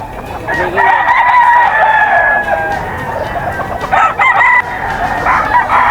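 Sweater gamefowl roosters crowing at a busy rooster market in Bocaue, several overlapping cock-a-doodle-doo calls close by and loud, with clucking and crowd murmur behind.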